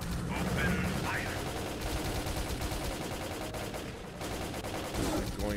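Automatic gunfire rattles in S.T.A.L.K.E.R.: Call of Pripyat, dense repeated bursts from several weapons throughout, loud and close, with occasional game voices mixed in.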